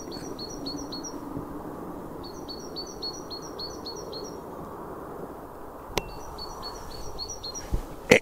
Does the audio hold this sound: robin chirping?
yes